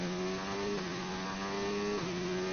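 A Renault Formula 1 car in a racing video game on the Hungarian GP circuit, its engine a loud, steady high-pitched whine that dips briefly as it brakes into turn 1.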